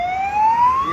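A short burst of an ambulance siren sound effect, one loud rising wail sweeping steadily upward, heard close and alone.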